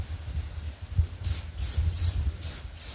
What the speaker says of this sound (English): I'm spraying in a ventilated area,